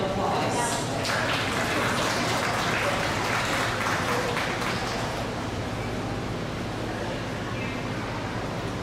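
Applause for kids at a 4-H rabbit show, a steady wash of clapping from an indoor crowd that swells early and continues, fairly distant and even.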